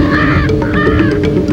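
Lear's macaw, a blue parrot of Brazil, gives harsh, raspy calls repeated several times in quick succession. They come through loud and close against a steady background, with no talking.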